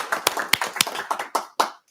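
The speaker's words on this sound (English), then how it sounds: "Let's clap for all the planning and zoning people." A short run of about seven sharp, separate hand claps at a town council meeting, fairly close, ending abruptly in silence.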